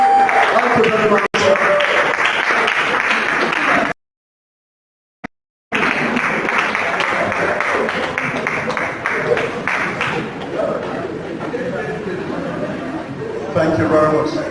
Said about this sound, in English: A round of applause for him as he comes to the podium tonight.